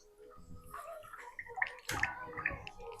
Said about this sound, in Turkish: Al bu krema dök.